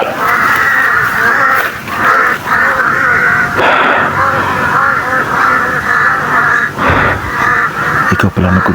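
Crows caw repeatedly over a dense, continuous din of bird calls, loud and close throughout, with a few brief sharper bursts near the end.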